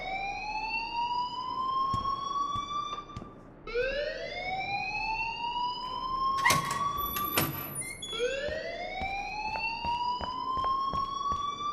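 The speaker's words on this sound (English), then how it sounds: "please turn off that alarm since that's your job" A school alarm blares in the game Life Is Strange, cycling through rising electronic whoops that repeat every few seconds, loud and close, broken by a few sharp clattering knocks.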